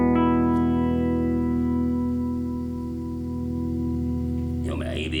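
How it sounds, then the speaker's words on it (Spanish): An electric guitar played through a distortion pedal into a Harley Benton Tube 15 valve amp head rings out as one loud, sustained, buzzy chord that slowly fades, with a short noisy burst of new strumming near the end. "Ahora metemos un pedal de distorsión y cruje esto."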